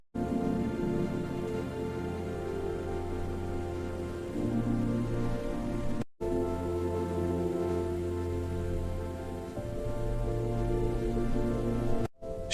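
Steady rain falls in a continuous, even hiss that carries through the whole stretch, with a low tonal hum beneath and two brief dropouts; no voices.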